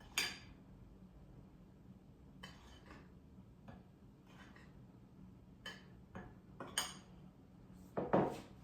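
A utensil stirs flour, cocoa and baking powder together in a bowl, making quiet scattered scrapes and light clinks against the bowl, growing a little louder toward the end.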